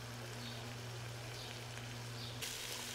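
Chicken pieces fry in oil with turmeric, producing a faint, steady sizzle over a low constant hum, with no voices heard.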